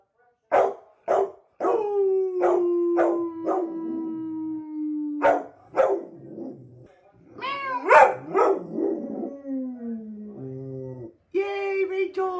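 A female dog howls up close, loud sustained wavering howls broken by short yips and barks, while a person cheers her on and joins in with playful howl-like calls.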